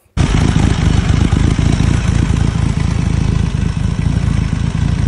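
A three-cylinder radial engine powering a Meyers Manx starts suddenly and runs loudly and close by, with a steady lumpy, uneven beat from its 1-3-2 firing order that continues throughout.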